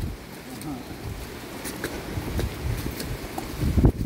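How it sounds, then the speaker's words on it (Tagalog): Wind gusting across a muddy mountain road at night, a steady rough rumble of wind buffeting the microphone that swells louder toward the end, with people talking faintly underneath. "Umihip yung hangin."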